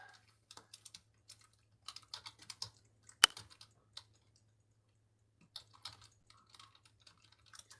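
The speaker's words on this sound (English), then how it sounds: "let me just type this right here." Fingers type in scattered bursts on a computer keyboard, a close, crisp patter of key clicks with short pauses and one sharper louder tap near the middle, over a faint low hum.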